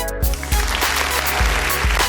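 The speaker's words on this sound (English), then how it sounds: "She get a short applause, though, because we got this to do." A short burst of studio applause on a live radio show, loud and close, with rhythmic thumping beats running underneath the clapping for about two seconds.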